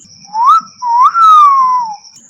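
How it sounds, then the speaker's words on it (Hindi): A cartoon fish blowing a loud whistle: two long, rising-and-falling whistled notes, the second held longer, close and piercing over a faint steady high tone. "तभी एक मछली ने जोर से सीटी बजाई।"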